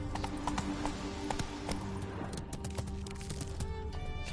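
Galloping hooves of the horse Roach in The Witcher 3, a steady rapid clip-clop rhythm running throughout over a continuous game background drone.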